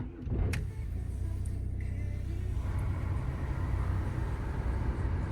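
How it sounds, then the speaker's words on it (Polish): A car is started in freezing winter weather and driven off: a brief knock as the engine comes on, then a steady, close, low rumble of driving that runs throughout. "No dobrze, więc włączamy samochód."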